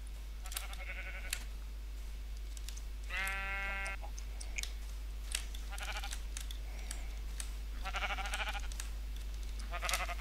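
Sheep in a video game bleat in short, buzzy, wavering calls, several separate bleats spread across the clip over a steady low hum and faint clicking.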